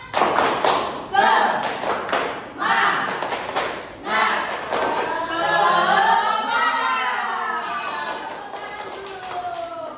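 A classroom of students in an Indonesian maths lesson claps out a rhythmic cheer in short patterned bursts, then the sound moves into group chanting and voices, loud and close.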